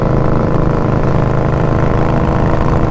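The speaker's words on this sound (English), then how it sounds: "the Hacker Mayhem is the nastiest, loudest, most unforgiving exhaust you will find" A vehicle engine fitted with a Hacker Mayhem exhaust revs in a loud, steady, dense roar held close for the whole stretch, with no voices over it.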